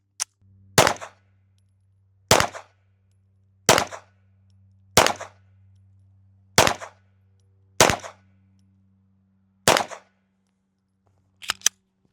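A Canik TP9 9mm pistol with a threaded barrel fires eight sharp, loud shots spaced about one to one and a half seconds apart. A low hum sits between them, and faint clicks follow at the end.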